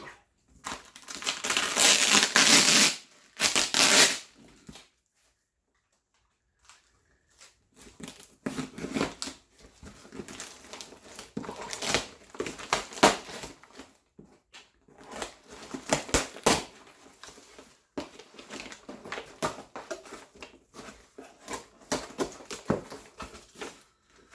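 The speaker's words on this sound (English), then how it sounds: "She hates the sound of crinkly plastic bags." Bursts of loud crinkling and crushing, like a plastic bag being scrunched up close, in irregular clusters separated by short silences.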